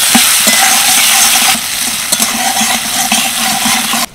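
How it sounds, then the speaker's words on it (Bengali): Dried chillies, coconut, cashews, raisins and chopped tomato frying in a hot pan, a loud continuous sizzle with scraping stirs throughout, close and alone with no talk. "হালকা করে সব কিছু ভেজে নেব।"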